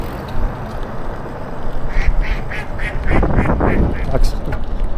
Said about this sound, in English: Ducks.